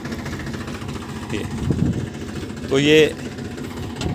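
Tractor-driven weeding machine working a cotton field, pulling weeds out by the root: a steady, mid-pitched engine drone runs throughout under a man's speech, with a brief louder burst near the end.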